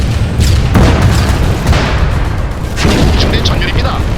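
Heavy artillery and tank cannon fire booms in a war video game set in a Chinese and North Korean invasion of South Korea, loud continuous rumbling blasts with sharp reports near the start and middle, under shouted voices.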